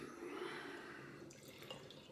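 Session IPA beer being poured into a glass, a faint, steady liquid trickle and fizz with light dripping, quiet and close, no voices.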